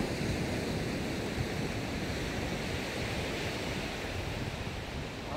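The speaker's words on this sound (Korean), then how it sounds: "바람이 이제 많이 불어집니다." Steady wind roars across the open sand at Songjeong beach during kite flying, with surf blended into a constant broadband rush that stays loud and unbroken from start to finish, with no voices.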